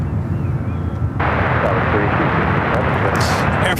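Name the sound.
Air France Boeing 777-300ER jet aircraft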